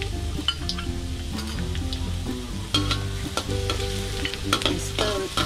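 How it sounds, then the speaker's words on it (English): Chopped garlic sizzles in hot oil over a low flame while a utensil stirs it, with a constant frying hiss broken by clinks and scrapes against the pan. "Pour in some oil using low flame. When the oil is hot, put in the chopped garlic."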